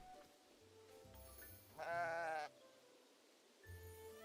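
Sheep in the video game Tales of the Shire bleating, a soft low call followed by one loud, wavering bleat in the middle and another quieter call at the end, over faint background.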